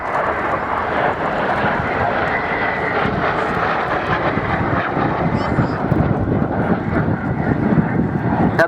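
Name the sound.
Folland Gnat jet aircraft flying at air display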